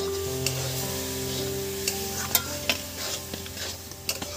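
Spices sizzle in a pan for khichuri as a little water goes in, a steady hiss broken by several sharp stirring scrapes and pops, close and fairly loud.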